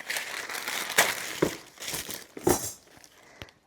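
A clothing subscription style box package being ripped open, with repeated crinkling, tearing and crumpling bursts of paper and plastic close up, no one talking.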